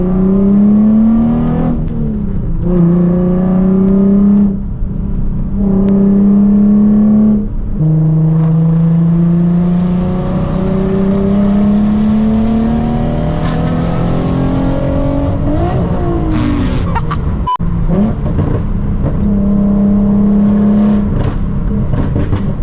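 A Nissan 370Z Nismo with its ECU set to a flame-tuned map revs hard again and again, close and loud, the pitch climbing and falling in repeated pulls with a sharp pop near the end.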